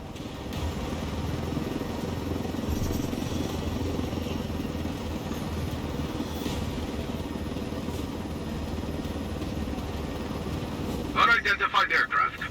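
Helicopter in Ghost Recon Wildlands, a steady low rotor and engine drone held at constant loudness throughout, with a brief burst of sharper pulsing sounds near the end.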